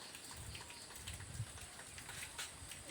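Steady rain falling and pattering on surfaces with scattered drip taps, a faint, continuous wash of sound with no voices.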